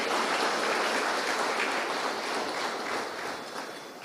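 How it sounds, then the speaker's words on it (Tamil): Applause from an audience at a Tamil humour talk fills the clip, a dense, steady clatter of clapping that fades slightly toward the end. "நல்ல ஒரு பலத்தை கைத்தட்டு கொடுங்களேங்க"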